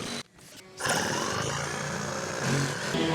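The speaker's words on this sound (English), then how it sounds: "The noise you hear up top, that's Carlos. He's doing the sanding of the roof in the front" Steady, loud grinding roar of a power sander on a boat roof, continuous after a brief dip, with a rough broadband texture.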